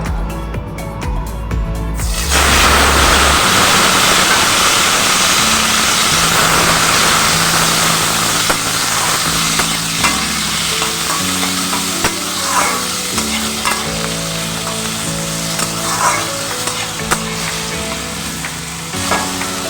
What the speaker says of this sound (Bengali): সমস্ত গোটা ফোড়নগুলো আমার ভাজা হয়ে গেছে এবার আমি দিয়ে দেব সিদ্ধ করে রাখা লাউ